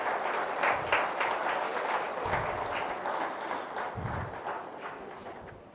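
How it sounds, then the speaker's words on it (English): Audience applause at a commencement day ceremony, a steady wash of many hands clapping that holds fairly loud throughout, with a few heavier thumps mixed in. "we should applaud the efforts of everybody who made this possible"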